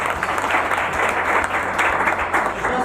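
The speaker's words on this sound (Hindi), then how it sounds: "कृष्ण भगवान के जोरदार ताली बजाइए" An audience claps in steady, dense applause at a seminar-style gathering, a loud continuous patter of many hands with no pauses.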